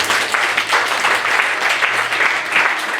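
A church congregation clapping together, steady and full, with dense overlapping claps sustained throughout and a faint hum beneath.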